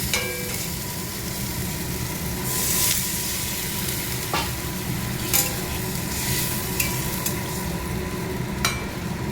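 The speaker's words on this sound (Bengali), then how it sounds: "এই যে বন্ধুরা দেখো ভাজা হয়ে গেছে মশলা দিয়ে, এবার জলটা দিয়ে দেবো।" Spices fry in a pan for fish curry with a steady, close sizzle, and a utensil stirs and scrapes the pan at intervals.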